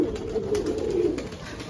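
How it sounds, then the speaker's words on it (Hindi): Pigeons kept together as a small flock, cooing in low throaty warbling calls that roll on continuously, close and fairly loud with no talking. "ये रहा कबूतर भी इनके साथ, तीन कबूतरों के साथ है"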